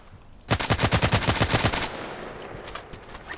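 SVU-AS automatic sniper rifle in Contract Wars firing a rapid burst of about a dozen loud, evenly spaced shots, followed by a fading echo and faint mechanical clicks.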